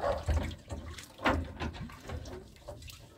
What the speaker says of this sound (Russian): Прямо со шланга помою.